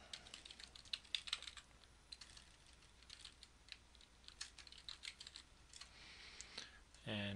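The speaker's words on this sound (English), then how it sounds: "Put in my username and password." Keys on a computer keyboard tapped in quick irregular bursts while entering a username and password to log in to a remote Mac terminal server, moderately close and fairly quiet, with a brief louder thump near the end.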